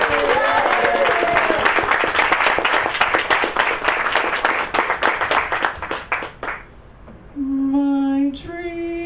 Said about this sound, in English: let's give a round of applause for all the performers.